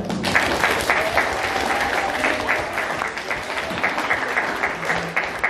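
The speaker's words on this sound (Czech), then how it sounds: "prosím potlesk pro naše herce" An audience applauds the actors at the end of a Czech television show, a dense, steady clapping heard close and loud throughout, with a faint voice beneath.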